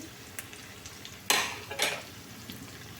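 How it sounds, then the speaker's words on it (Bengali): Chhana (cottage cheese) fritters frying in a pan, a soft steady sizzle with a few brief louder scrapes and spatters as they are turned, no talking. "মোটামুটি লাল লাল ভাজা হচ্ছে"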